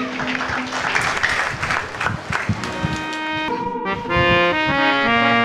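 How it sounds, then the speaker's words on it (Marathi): An audience claps loudly for a young singer at a Gurupournima 2025 devotional music program, a dense crowd applause lasting several seconds before instrumental music with sustained tones takes over. "जोरदार टाळ्या होऊन जाऊ देत एका अद्वैतसाठी."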